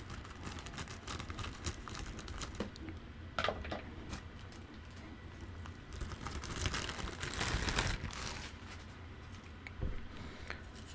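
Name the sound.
scissors cutting open microphone shock mount packaging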